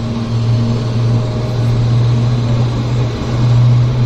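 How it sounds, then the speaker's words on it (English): A Boeing 777 starting its jet engines at Vancouver International Airport: a steady low engine hum with a sustained droning harmonic tone, continuous and fairly loud, rising slightly toward the end. "That's the 777 harmonic. That noise."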